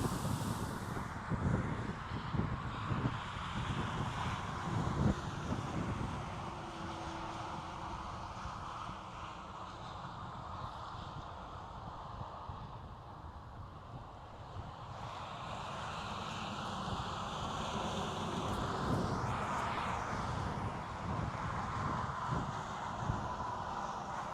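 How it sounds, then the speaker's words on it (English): Wind blows outdoors during a storm chase amid a tornado threat across Michigan, Indiana and Ohio, a steady low rumbling buffet with gusty swells and no talk. "The wind's coming from this way."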